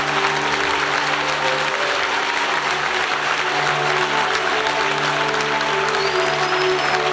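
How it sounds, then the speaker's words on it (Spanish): Continuous strong clapping from a Pentecostal retreat congregation over a low, held organ-like tone, the applause even and unbroken from start to finish with no speech above it. "Yo creo que alguien puede aplaudir más fuerte al Señor en esta hora."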